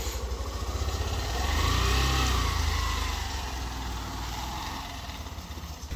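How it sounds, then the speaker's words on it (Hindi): A motorbike carrying a sack of garlic at night near the Ramtirth Makar Sankranti fair in Devgaon idles and revs nearby, its engine swelling louder for a moment, then settling back into a steady putter. "ये बाइक पे लेके जा रहा है"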